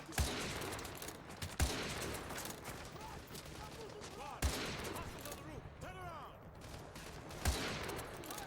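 Sniper rifle shots from Call of Duty: Modern Warfare 2 crack out roughly every three seconds, four sharp loud reports amid a busy background of distant gunfire and battle noise.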